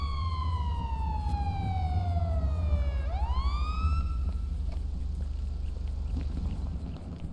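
A police car siren in GTA V wails loudly over a rumbling engine, one falling tone sweeping down and then rising again into a steady whine that fades out.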